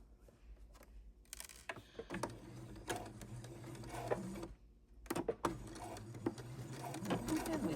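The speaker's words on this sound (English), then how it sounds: "And sewing the trunk of the Christmas napkin we just made." A sewing machine stitches the trunk of a Christmas tree napkin in short whirring bursts separated by brief pauses and mechanical clicks, close and fairly quiet.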